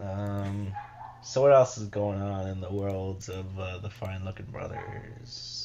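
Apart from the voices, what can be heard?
dog Coco barking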